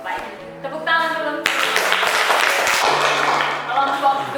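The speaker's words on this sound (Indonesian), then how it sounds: "Baik, tepuk tangan dulu." Classroom applause for a student group, a burst of many hands clapping that swells loud and dense, with a teacher's voice speaking around it.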